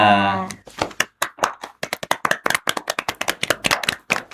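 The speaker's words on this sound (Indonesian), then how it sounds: "Jadi tepuk tangan pada datang." Hands clapping in a short burst of applause at the close of a student organisation's podcast episode, many claps at an uneven quick rhythm, fairly close, following a brief sung or spoken note at the start.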